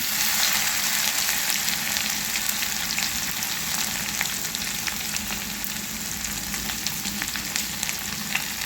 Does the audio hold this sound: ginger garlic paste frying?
yes